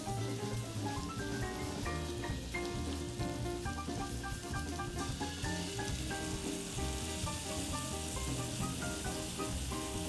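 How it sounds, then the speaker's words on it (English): Coconut milk goes into a hot pan of beet stem and leaf coconut curry, bringing a steady crackling sizzle that carries on under prominent background music. "And then we're ready to add the coconut milk."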